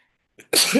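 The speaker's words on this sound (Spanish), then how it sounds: "era tomar agua y estornudar" A single abrupt sneeze bursts out close and loud after a brief faint intake of breath, alone in a quiet room.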